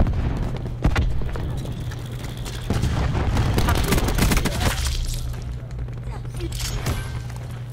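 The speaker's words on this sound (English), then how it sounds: "Cluster grenade." Repeated heavy cluster grenade blasts boom in a first-person shooter video game, several thumping explosions in quick succession with rumbling tails.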